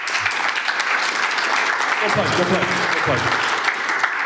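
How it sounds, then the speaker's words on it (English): Audience applause at a tech conference panel session, a steady dense wash of clapping throughout with a brief spoken remark over it. "Give them a round of applause."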